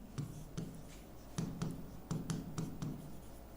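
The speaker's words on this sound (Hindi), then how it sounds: "एक शब्द और लिखेंगे" A pen writes a single Hindi word by hand on paper, giving a handful of brief scratchy strokes in an irregular rhythm, close and fairly quiet, with no talking.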